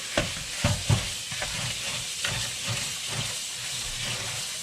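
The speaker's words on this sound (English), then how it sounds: "We're going to start with washing the rice." Rice being washed with water in a bowl, with a few sharp swishing splashes at first and then a softer, continuous watery churning and rustle, close and fairly quiet, with no talking.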